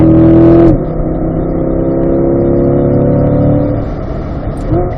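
A Chevrolet C8 Corvette engine holds a steady, loud drone under throttle on a race track, lifting briefly near the start and then easing off slightly for a corner before coming back on.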